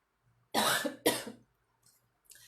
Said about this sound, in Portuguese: eu tô tossindo assim, mas é rinite, tá?